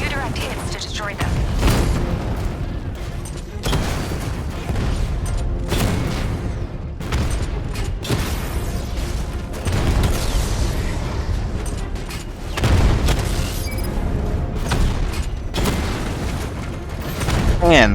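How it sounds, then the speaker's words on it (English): Cannon blasts and explosions crash through a tank battle in Batman Arkham Knight. Heavy booms repeat at irregular intervals over rumbling machinery, and a voice talks across parts of it. "Your 60mm cannon will penetrate these heavily armored units, but it'll take a few direct hits to destroy them."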